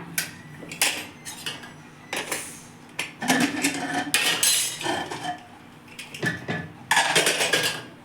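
Metal utensils and a pressure cooker lid clink and clatter in irregular bursts while a cooked moong dal khichdi is opened in a home kitchen, loud and close, with no talk.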